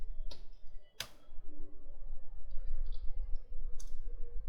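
Keys clicking on a computer keyboard while typing a MySQL command, a few sharp isolated clicks spread over several seconds against quiet background hum.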